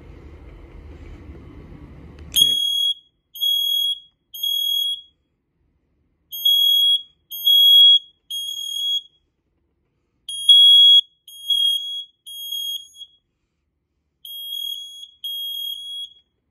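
A System Sensor 2012JA smoke alarm shrieks in repeated groups of three high-pitched beeps, loud and close, with short pauses between groups after a low rumble cuts off.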